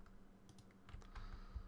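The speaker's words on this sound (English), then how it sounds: "I'm doing that by using the brackets key on my keyboard" Bracket keys on a computer keyboard are tapped in a quick cluster of light, close clicks over a quiet room hum, growing slightly busier toward the end.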